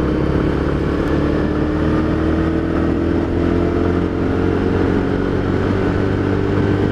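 A 2012 Honda Tiger Revo motorcycle engine runs loud and close, a steady, rough, continuous rumble with slight swells as the throttle is worked, and no talking.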